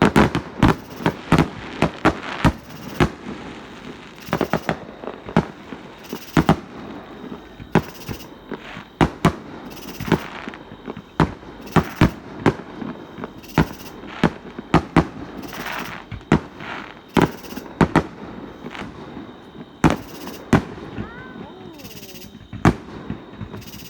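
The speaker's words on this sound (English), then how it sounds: "very nice fireworks by Travis Lake." Fireworks going off near a lake house during a July 4th party, a steady barrage of sharp bangs and crackling bursts repeating irregularly over about twenty-four seconds, loud and fairly close.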